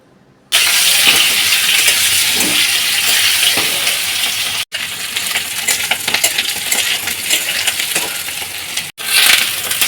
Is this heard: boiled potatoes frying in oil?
yes